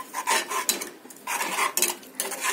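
A spoon stirs and scrapes carrot halwa in a metal pan, giving bursts of clinking and scraping in an uneven rhythm with short pauses between strokes, close and fairly loud, no voices.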